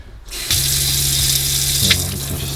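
Water from the pump runs steadily into the kitchen sink of a 2020 Arctic Fox 990 Legacy camper, a continuous close splashing stream that starts abruptly after a brief pause, with a low hum beneath it.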